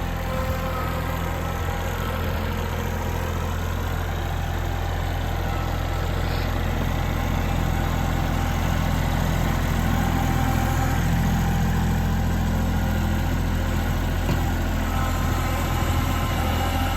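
A tractor engine idles steadily outdoors in snow throughout, a constant low droning rumble close by with no change in pace and no talking.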